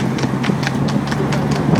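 Horse hooves clip-clop in a quick, even rhythm, close and clear over a low steady rumble, with no talking.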